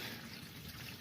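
Water drains out of a Jeep Cherokee engine in a steady continuous pour, a broad watery rush spattering onto the ground nearby without pause.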